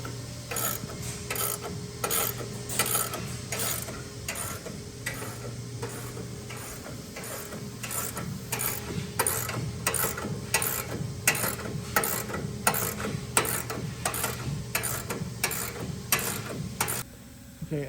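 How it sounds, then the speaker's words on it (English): Rapid ratcheting clicks from a screw being turned by hand on a Resina NRC-40 inline capper to raise its gripper belts, repeating in a steady rhythm over a low mechanical hum, close and alone. "In order to raise up the gripper belts, you must rotate the screw clockwise."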